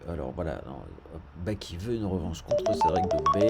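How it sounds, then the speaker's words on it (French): A run of short telephone keypad or notification tones, quick rising beeps close by that sound out under and after a man's speech. "Hop, téléphone, super. Désolé pour le bruit."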